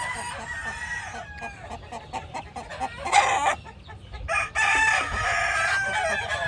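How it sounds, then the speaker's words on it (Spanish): A Cowan gamecock stud rooster crows at a gamecock farm in California, with several loud, close cock-a-doodle-doo calls separated by quieter clucking and farmyard background. "Un cowan semental que tenemos aquí en la gallera."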